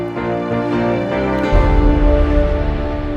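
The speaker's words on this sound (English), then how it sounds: "The music also transits to the MCU Spider-Man theme," Orchestral MCU Spider-Man theme music from a Spider-Verse fan edit, shifting partway through into a fuller, louder section with heavy low end, played alone with no talk.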